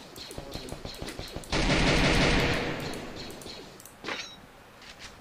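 Gunfire in the video game Free Fire, a burst of dense automatic shots mixed with scattered single pops and clicks, fairly loud against a busy game background.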